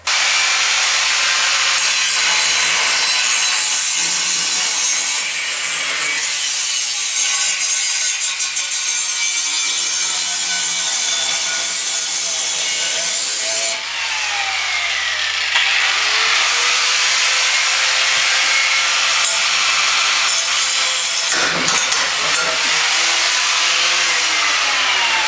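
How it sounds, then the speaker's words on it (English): A power saw cutting through the exhaust pipe of a Ford F-150 truck, a loud continuous high-pitched grinding rasp that shifts in pitch as the blade bites, briefly pausing midway, with no talk. "We gotta cut the exhaust off so we can get it out of the way."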